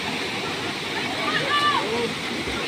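Mountain river water at the foot of Mount Banahaw rushes in a steady broadband wash, with bathers' voices and faint chirping mixed in over it.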